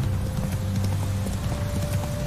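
A horse's hooves clip-clop steadily and close by in a video game, with a continuous low rumble and a faint hum beneath the hoofbeats.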